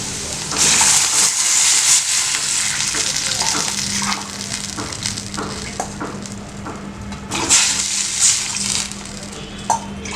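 Water from a glass poured into a hot pan of cooking wheat rava upma, a loud sizzling hiss and bubbling splash that runs continuously, swelling again near the end, with no talking.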